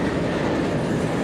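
A long freight train rolls past on the tracks in central Ohio, loud and close, its railcars giving a steady rumbling roar with faint clickety-clack from the wheels and no voices.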